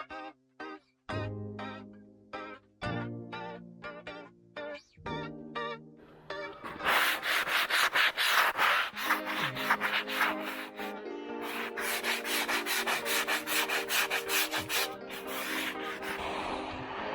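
A 60-grit foam sanding sponge rubbed across an interior concrete wall: at first short separate scrapes with pauses, then a continuous loud, gritty back-and-forth scrubbing up close.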